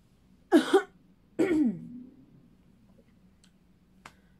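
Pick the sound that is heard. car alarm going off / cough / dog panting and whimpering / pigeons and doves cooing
cough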